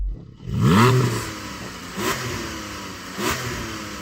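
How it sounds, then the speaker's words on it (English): A Porsche Cayman GTS sports car engine revs sharply once, climbing and falling, then gives two shorter blips, heard nearby outdoors with no talk. "Faceless racing driver number 2, can you rev up your Porsche, please?"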